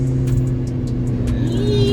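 A McLaren twin-turbo V8 car accelerates hard, its engine a loud, close, continuous roar with rising pitch and a whining turbo tone climbing near the end, no voices.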